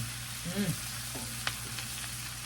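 Cabbage frying with bacon and onions in a pan, a soft continuous sizzle with a brief scrape and a light clink as it is moved around, close by and fairly quiet.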